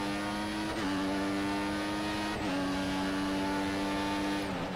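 F1 car engine from the F1 2014 racing game at the Singapore circuit, a loud steady high-pitched whine with two sharp upshifts dropping the pitch before it climbs again, alone with no talk.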